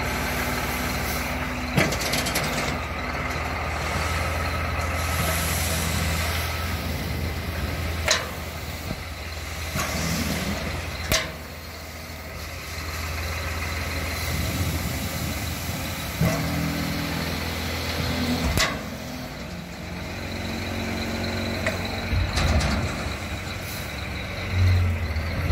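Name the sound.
large truck delivering six cubic metres of topsoil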